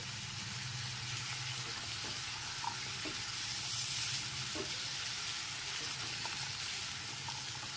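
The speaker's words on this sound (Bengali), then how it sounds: "হলুদ গুঁড়ো আর লবণটা খুব ভালো মতো মিশিয়ে নিচ্ছি" Salt and turmeric being stirred into a pumpkin curry with drumsticks, a soft continuous sizzle from the pan with faint occasional spoon scrapes, fairly quiet and without talk.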